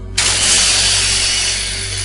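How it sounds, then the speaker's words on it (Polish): Mech drill in the video game Lost Planet 3 starts abruptly and holds a loud, steady mechanical whir over a low engine drone for about two seconds. "Bo poruszyłem wiertłem."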